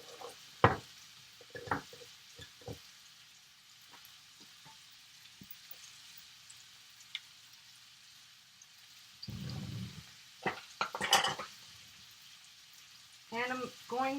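About two tablespoons of butter melt in a pan for a low-carb chicken, mushroom and asparagus dish. A faint sizzle sits under scattered knocks and utensil clatter, with a brief louder burst of frying near the end.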